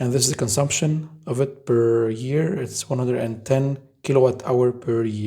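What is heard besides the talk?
No everyday noises stand out.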